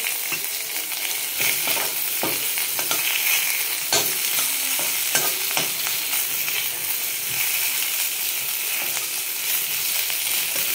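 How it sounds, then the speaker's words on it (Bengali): Garlic goes into low oil with whole cumin and sizzles steadily up close, broken by repeated scraping strokes and clicks as it is stirred, with no talking. "জিরেটা ভাজা হয়ে গেছে। এখন দিয়ে দেবো রসুন।"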